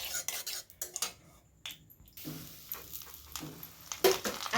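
Ghee is stirred in a pan with a metal spoon, making repeated close scraping and clinking strokes in irregular bursts with brief pauses.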